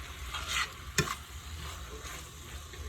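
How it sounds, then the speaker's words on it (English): Chicken strips for a stir fry with onions and peppers searing in a hot pan, a close, steady sizzle broken by a couple of sharp stirring scrapes, with no talking. "So you want to sear it a little bit till it's a little white."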